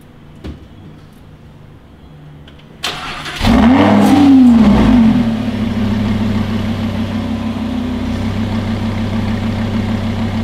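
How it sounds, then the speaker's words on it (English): A warm Lamborghini engine fires up with a sharp starter crank and loud revs, then drops into a steady, deep, rumbling idle that carries on alone to the end. "people keep asking to hear the Lambo"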